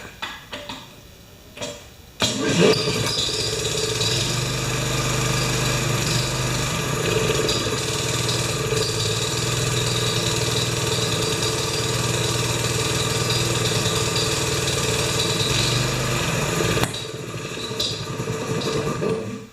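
A small Honda engine on a wheelbarrow compressor starts abruptly and runs at a steady, busy idle for about fifteen seconds before cutting out, close and loud throughout.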